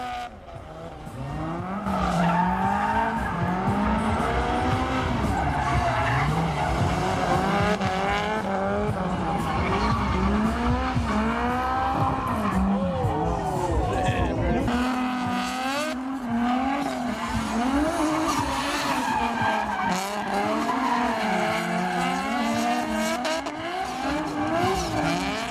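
Toyota AE86 drifting at a car show event in Anaheim, tires squealing in long wavering howls over a loud engine roar that rises and falls continuously, close and dominant throughout.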